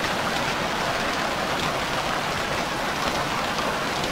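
Rain in the survival video game Stranded Deep: a steady, dense hiss of falling rain, continuous and even throughout, with no talk.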